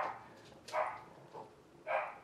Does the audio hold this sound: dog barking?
yes